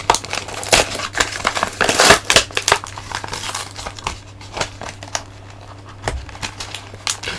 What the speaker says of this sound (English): The packaging is about to be ravaged.